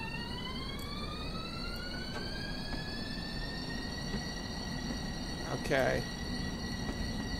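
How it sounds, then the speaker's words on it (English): An electric Long Island Rail Road train in Train Simulator Classic runs with a steady low rumble and a rising whine of motor tones that climb as it gathers speed, while a voice speaks briefly over it. "So I think this train is a electric."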